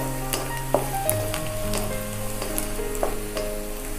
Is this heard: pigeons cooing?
no